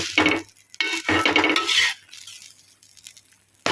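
Knife or fork cutting a bread omelette into pieces on a plate, a few scraping clinks against the dish in short bursts, close and clear, then a quiet stretch before another scrape.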